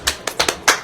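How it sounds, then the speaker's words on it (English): A brief, polite golf clap of applause for Todd DeRemer: four or five sparse, sharp hand claps in an uneven rhythm, close and alone. "I feel like that's the golf clap."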